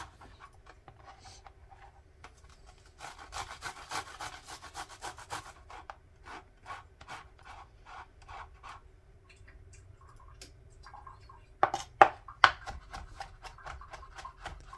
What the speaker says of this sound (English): Take the garlic and use the smaller side to grate it down.